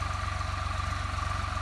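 A farm tractor's engine idling during wheat sowing, a steady low rhythmic chugging that holds even and close throughout with no voices.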